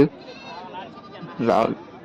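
A goat bleats once, short and close, at a goat and sheep market, heard briefly after a voice talks.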